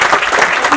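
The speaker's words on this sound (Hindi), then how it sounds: "जरा जोरदार तालियां हो जाए" Loud, dense audience applause fills a hall at a foundation-day arts function, a short steady burst of many hands clapping at once.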